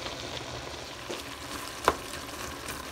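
Ground meat for lasagna sautés in a pan with a steady close sizzle, punctuated by one brief sharp scrape of a utensil midway.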